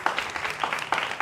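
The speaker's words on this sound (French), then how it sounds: "On applaudit." Short stretch of audience clapping at a live event, moderate and somewhat uneven with distinct claps, heard alone.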